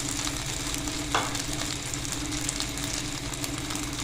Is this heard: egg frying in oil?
yes